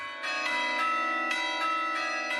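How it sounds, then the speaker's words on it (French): Carillon bells of the Lyon city hall belfry ringing a melody, rich sustained tones with repeated strikes every half second or so, steady and close. "une ritournelle jouée chaque jour par le carillon de l'hôtel de ville"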